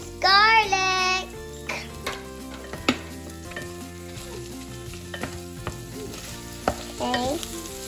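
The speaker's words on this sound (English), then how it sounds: "So Mom's gonna saute the sardines and the minced garlic." Sardines and minced garlic sauté in a pan for seafood palabok, giving a steady close sizzle broken by stirring clatter and a brief burst of high squeaky sound at the start, with a few short voices in the background.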